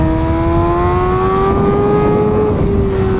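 A Kawasaki ZX6R sport bike screams on a race track, its engine held high near the rev limiter in one loud, steady, slowly rising whine that dips slightly at the end, close and continuous with wind noise underneath.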